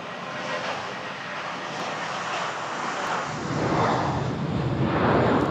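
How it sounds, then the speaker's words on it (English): Airplanes take off at Nashville International Airport, a steady, loud roar of aircraft engines that swells and grows stronger toward the end, heard alone without talk. "I guess you need to hear the planes."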